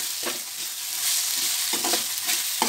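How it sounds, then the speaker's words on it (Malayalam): Onions and ginger garlic paste sautéing in hot oil for chicken biryani, a loud, close, continuous sizzle with brief scraping strokes from stirring breaking through at intervals. "ജിഞ്ചർ ഗാർലിക് പേസ്റ്റാണ് ഞാൻ ഇടുന്നത്. അപ്പോൾ നമുക്കിത് ഇട്ടിട്ട് നന്നായിട്ടൊന്ന് വഴറ്റി കൊടുക്കാം."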